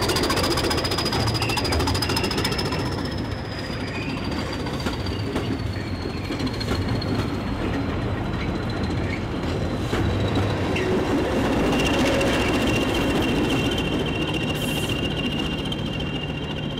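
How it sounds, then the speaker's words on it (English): Class 20 diesel locomotives, paired nose to nose, hauling a heavy goods train, giving a steady continuous rumble and drone with a high whine throughout, loud and close, with no talk. "most Class 20s were formed into pairs, joined nose to nose, and pulled heavier goods trains"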